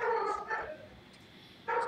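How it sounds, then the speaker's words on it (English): A dog barks and whimpers in a few short bursts, moderately close but fairly faint, with pauses between the yips in an otherwise quiet room. "Nice dog barking."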